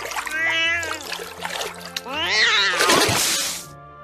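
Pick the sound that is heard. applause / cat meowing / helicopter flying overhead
cat meowing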